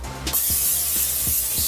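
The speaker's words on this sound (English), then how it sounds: "take some olive oil cooking spray" A sustained hiss of an aerosol olive oil cooking spray, close and loud, with faint clicking taps underneath.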